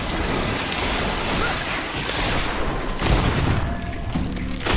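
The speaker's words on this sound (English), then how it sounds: "Watch out! Grenade!" A grenade detonates during a chaotic battle in the fantasy RPG Greedfall. Dense, loud crashing booms and rapid gunfire-like bursts pile on top of each other without a pause.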